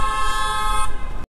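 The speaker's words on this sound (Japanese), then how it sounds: "対向車危なかったね今。" An oncoming car passes close to a fixed-gear bike on Gaien Higashi Street in Roppongi, Tokyo, a steady near engine rush with a horn-like tone that holds and then cuts off abruptly.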